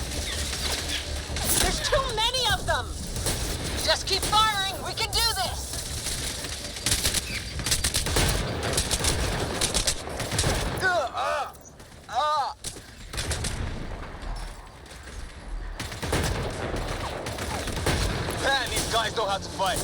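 Sustained gunfire in a Mass Effect Andromeda firefight, bursts of shots and explosive booms running almost continuously beneath frantic shouting voices.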